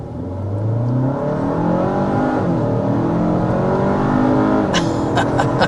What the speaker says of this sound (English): but first we have to start with a hard acceleration.